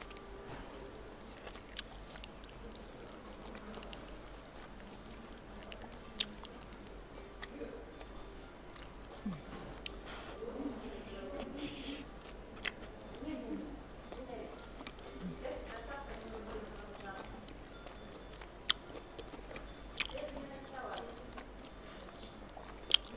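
Lagman noodles being eaten in a restaurant: soft, intermittent biting and moist chewing close to the mic, with occasional small clicks and crunches spread across the stretch.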